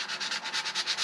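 Steady back-and-forth sanding strokes on a guitar neck ahead of polishing, a close, even rhythmic rasp of about ten passes in a second with no voices.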